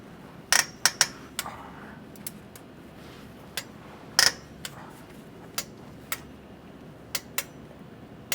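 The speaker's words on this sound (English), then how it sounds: "now I'm going to torque it to 29 foot-pounds" A torque wrench clicks while a bolt is tightened to 29 foot-pounds on a fourth-generation Toyota Prius during a transmission fluid change, with scattered sharp metallic clicks and taps, a louder pair near the start and another partway through, against a quiet garage background.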